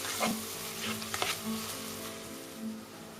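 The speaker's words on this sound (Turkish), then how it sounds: "Şimdi tereyağını ekliyoruz. Biraz da tereyağı da kavrulacak." Soft, continuous sizzling of minced meat frying in butter in a pan, with occasional light scraping and stirring sounds.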